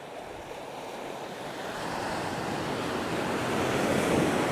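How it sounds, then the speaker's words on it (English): Ocean waves wash onto Bamboo Beach on Koh Lanta, Thailand, as a steady roaring surf that slowly builds louder, mixed with wind buffeting the microphone and no voices. "these waves are fairly good size"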